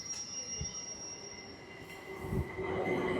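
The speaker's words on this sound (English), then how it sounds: "the first ever Mildmay Line shuttle peak hour train between Shepherd's Bush and Clapham Junction" A London Overground Mildmay Line peak-hour shuttle train pulls into the overground platform at West Brompton. Its wheels give a steady, high-pitched squeal over a low rumble, with a few dull knocks as it arrives.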